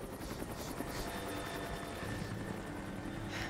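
A helicopter in the Tomb Raider video game whirs steadily with a fast rotor chop, a continuous mid-level drone with no talk.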